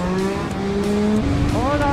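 Yamaha XSR 900 motorcycle engine hums with a steady tone that climbs sharply near the end as it revs, briefly and fairly close, with some voice in the background.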